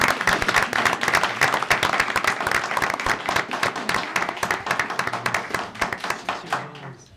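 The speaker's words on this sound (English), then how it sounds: "Let's give her a round of applause." A crowd at a city council meeting applauds steadily with dense, overlapping clapping that holds strong throughout, then thins and fades near the end.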